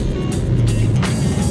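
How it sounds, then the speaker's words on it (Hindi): Dense traffic along the Lyari Expressway in Karachi: loud, continuous engine rumble from cars, buses and trucks, with passing vehicles whooshing by close at hand. "ट्रैफिक भी रवा दवा है हर तरफ"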